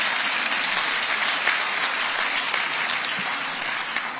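A conference audience in Northern Ireland applauds at a tourism event, a dense, steady wash of clapping that holds for about four seconds and eases slightly toward the end.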